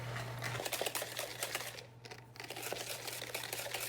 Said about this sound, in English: We're just going to whisk it.